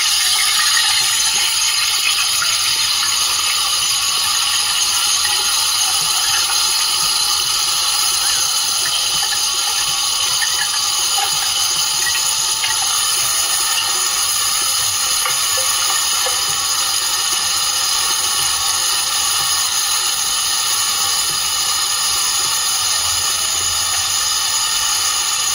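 Onion and tomato paste fry in a kadai for mutton kurma, giving a loud, steady, close sizzle and hiss that runs without a break from start to finish.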